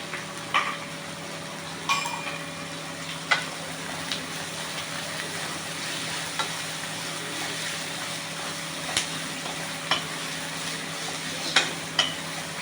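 Chopped onions and green chillies fry in a pan for rava khichdi, giving a steady low sizzle broken by occasional sharp clicks and scrapes of a stirring spoon, with no voices.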